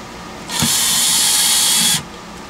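The case of a Fluke 27/FM digital multimeter is opened with a loud, steady, high-pitched whirring tool sound lasting about a second and a half, close up, with no talk.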